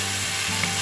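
Chicken chili sizzles and fries in a pan while being stirred, a brief, steady hiss close to the microphone with no talk.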